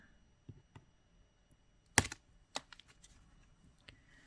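Wire cutters snip thin jewelry wire for earrings: faint handling clicks lead up to one crisp, close snap, followed by a few small ticks and rustles in an otherwise quiet room.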